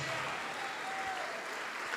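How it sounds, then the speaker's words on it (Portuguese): A church congregation claps together in a sustained, dense wave of applause that fills the space evenly from start to finish. "Vamos aplaudir ao Senhor Jesus"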